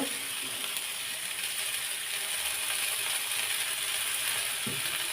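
Freshly picked water spinach (kalmi shak) from a balcony garden fries in oil, giving a steady, dense sizzling hiss that stays even and continuous throughout, with no voices.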